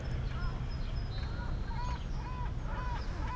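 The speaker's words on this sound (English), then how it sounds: "Hear that seagull?" A seagull calls from a pylon near a waterfront boardwalk at the JFK Library, giving several short, repeated cries that sit faintly above steady wind and outdoor noise.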